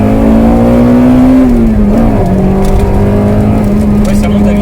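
A 1998 Honda Integra Type R's 1.8-litre VTEC engine revs hard and high, a loud sustained climbing drone that dips briefly then holds near the top, heard from inside the car while people talk over it.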